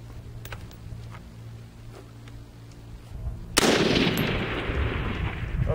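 An AR-15 T-91 piston-operated rifle fires at a 425-yard range. A single sharp, loud gunshot rings out and then fades into a long rolling echo, after quieter outdoor background noise.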